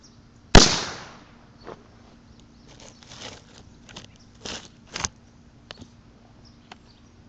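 Fireworks go off outdoors: one sharp, loud bang with a long decaying tail, followed by several scattered smaller pops and crackles at irregular intervals.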